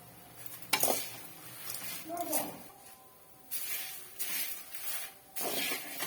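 Dried drumstick leaves roasting in a pan, with quiet dry sizzling and several bursts of spoon scraping and stirring against the metal, separated by calmer pauses.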